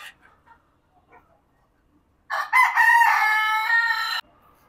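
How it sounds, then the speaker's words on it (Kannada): A rooster crows once, loud and close, for about two seconds at a native-chicken poultry farm, following a few faint clucks. "ಇಲ್ಲಿ ಒಳಗಡೆ ನಾಟಿ ಕೋಳಿ ಕಾಣಿಸ್ತಾರೆ ನಿಮಗೆಲ್ಲ."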